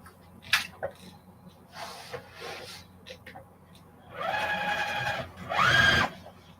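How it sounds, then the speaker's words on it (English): A sewing machine stitches quilt blocks, running in two short whirring bursts with a rising whine near the end, after some quieter rubbing and handling noises. "Let's get sewing."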